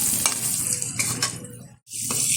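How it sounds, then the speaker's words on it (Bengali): Potatoes lightly frying in oil for a mutton curry, a close, lively sizzle with quick stirring scrapes, dropping out briefly to near silence before resuming. "সেই কারণে আমি হালকাভাবে আলুটা ভেজে নিচ্ছি"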